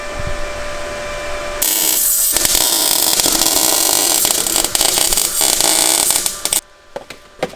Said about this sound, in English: That's what it sounds like when you're welding to rust.